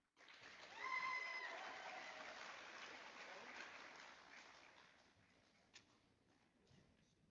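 A crowd at an 8th grade recognition ceremony claps for the graduating students, a soft, distant wash of applause that swells quickly with a few whistles, then gradually fades out.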